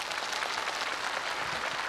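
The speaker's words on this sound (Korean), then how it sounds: "그러면 일단 박수 한번 주시고" Audience applause at a Korean one-man comedy show, a dense, even patter of many hands clapping continuously for a couple of seconds, fairly loud and close, with no talking.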